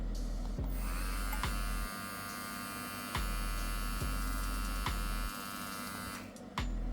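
Wahl Dancer Jr hair clipper running, a steady close buzzing hum with a few brief clicks and dips as it is handled, ending with a short drop at the end.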